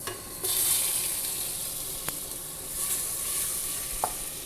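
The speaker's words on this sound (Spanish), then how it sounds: "Primero vamos a poner a derretir 100 gramos de mantequilla." About 100 grams of butter melts in a pan as the first step of a béchamel sauce for Greek pastitsio. A steady, close sizzle runs throughout, broken by a few light utensil clicks.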